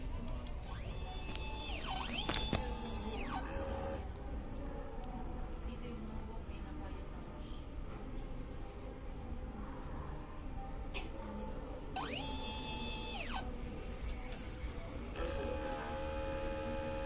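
An inkjet printer running a head cleaning whirs and hums steadily, with repeated rising and falling motor tones as the print head shuttles back and forth, plus occasional clicks.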